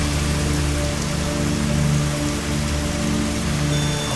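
Steady, loud rain in the 2D survival crafting game Dig or Die, a dense continuous patter over low droning tones, with no voices.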